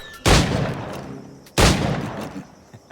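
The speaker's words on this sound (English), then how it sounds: "Pull off a few shots if you like." Two loud flintlock pistol shots in Assassin's Creed IV Black Flag, each a sharp blast with a trailing decay, about a second and a half apart.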